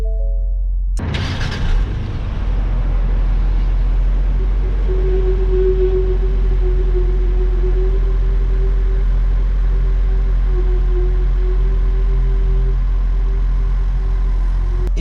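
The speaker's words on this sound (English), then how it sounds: "I just wanted to see, you know, how much you could hear the engine." A 2020 Ford Explorer ST engine starts with a brief burst and settles into a smooth, steady idle, a loud, close low rumble with a faint, even tonal whine and no talking.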